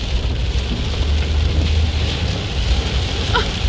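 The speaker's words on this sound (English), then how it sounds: "It's like the 5th time that it's raining." Steady rain hisses continuously with a low rumbling undertone. There's no speech.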